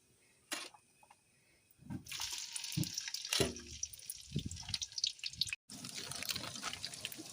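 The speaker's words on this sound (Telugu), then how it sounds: "కళాయి పెట్టి ఆయిల్ అయితే వేసుకున్నాను ఇప్పుడు ఇందులో ఉల్లిపాయలు పచ్చిమిర్చి వేసుకుందాము" Chopped onions and green chillies go into hot oil in a pan, starting a soft, continuous sizzle with a few crackling bursts, faint and close, with no talking.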